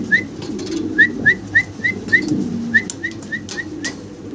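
Fancy pigeons kept for sale give a run of short, soft coos in a quick, evenly spaced series, close by over a low murmuring background.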